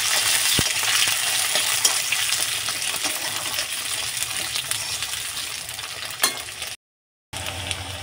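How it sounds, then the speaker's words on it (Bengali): Potatoes fry in hot oil, a dense steady crackling sizzle heard close up with occasional pops and stir clicks, cutting out briefly near the end before resuming. "আলুটা একটু লাল করে ভেজে নিচ্ছি।"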